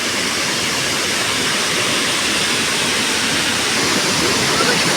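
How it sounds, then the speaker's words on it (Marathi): Constant roaring rush of falling water, a broad even wash of noise from the nearby Kinalos Waterfall in Konkan, Maharashtra, with no talking over it. "हे बघा इथून ते खाली पाणी पडतंय इथून पण बघू शकताय इथेच खाली धबधबा आहे"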